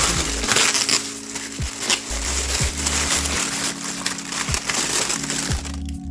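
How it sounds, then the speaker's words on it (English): A Krafty Butterfly artisan set being unwrapped from its packaging, close crinkling and crackling of wrapping with repeated thumps and rustles over several seconds. "it's going to take me a second to unwrap this"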